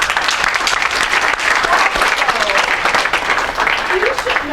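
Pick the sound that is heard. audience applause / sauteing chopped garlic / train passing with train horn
audience applause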